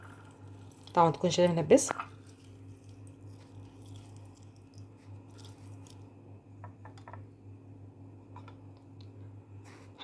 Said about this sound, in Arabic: هنعصر الليمونه كده